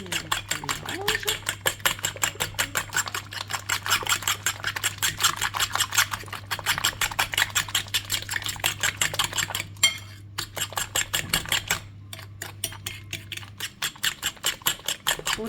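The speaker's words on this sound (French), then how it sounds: "On mélange, on mélange, on mélange." A utensil stirs apple tart batter in a bowl with steady, rapid rhythmic clinking and scraping against the bowl, close and continuous, while a faint low hum runs underneath.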